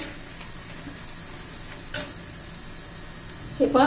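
Cornflour-coated soybean chunks deep-fry in hot oil with a constant soft sizzle and bubbling, broken by a brief utensil clink midway and a louder scrape near the end.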